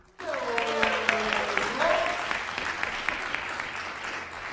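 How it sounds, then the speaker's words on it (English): Audience at a SpaceVision Ignite talk applauds a speaker, a loud burst of clapping that starts abruptly and stays steady before slowly tapering, with some voices mixed in. "So let's give a big round of applause to Kyle Shannon."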